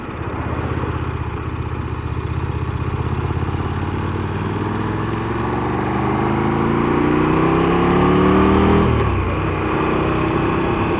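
A KTM 1390 Super Duke R Evo motorcycle engine pulls up through the revs, rising in pitch as it climbs steadily, then drops sharply with a gear shift before pulling again, loud and close from the rider's position.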